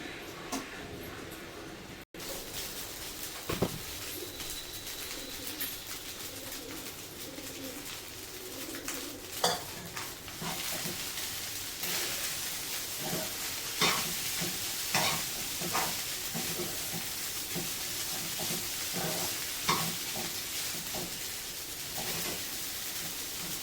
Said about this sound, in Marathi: तर भाजी वगैरे फोडणीला घालतो.